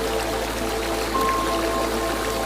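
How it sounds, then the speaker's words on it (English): Water trickling and splashing steadily from sculpted fish mouths into a rectangular outdoor koi pond fountain, a continuous close wash of flowing water with no voices. "The water gently cascades from the mouths of sculpted fish, adding a dynamic and soothing element to your outdoor space."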